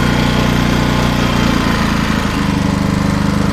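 A Champion CPG4000DHY-DF-EU 3.6 kW gas-petrol inverter generator runs with eco mode switched off, giving a loud, close, steady engine drone that shifts in pitch partway through as the revs rise. No one speaks.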